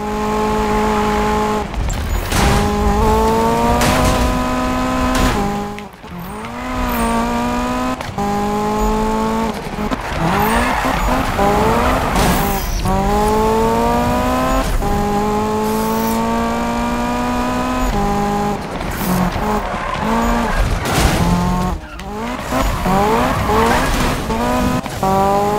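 Race cars roar continuously through a hard Need For Speed (2015) street race, engines rising and falling in pitch through repeated gear shifts with tire squeals and skids, loud and sustained throughout.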